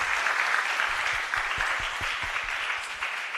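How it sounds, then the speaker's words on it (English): Conference audience clapping for speakers at the close of a transport infrastructure session, a steady moderately loud wash of many hands, sustained throughout with no voices. "let's please give a very big round of applause to Minister Angela, Mr. Lokesh Chandra, and Mr."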